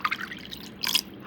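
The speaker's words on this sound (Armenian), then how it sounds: "Որից հետո այսպես ուղղակի սառը ջուր եմ լցնում," Cold water poured over raw chicken hearts and gizzards sprinkled with baking soda, a brief close trickle and splash, with no talking.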